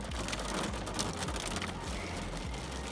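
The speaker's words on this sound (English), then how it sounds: "It's also hailing." Steady rain and hail falling outside a home, a dense, even patter that fills the whole stretch with no gaps or speech.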